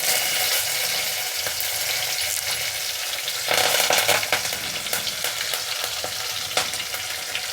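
Long-cut green chili pieces and curry leaves frying in hot oil, a loud crackling sizzle that flares up midway, with a few stirring knocks and no voices.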